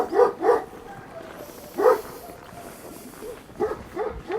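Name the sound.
dog barking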